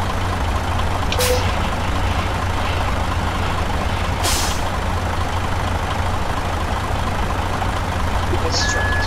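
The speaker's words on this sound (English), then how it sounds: "Our truck is moving like crazy." Truck in Euro Truck Simulator 2, a steady loud diesel engine drone with two sharp air-brake hisses and a faint beep near the end, under a voice talking.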